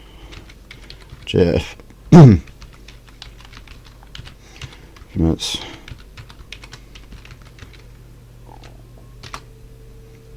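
Linux commands such as ls are typed on a computer keyboard: quick, light keystroke clicks in short runs, with a few brief bursts of a voice between them.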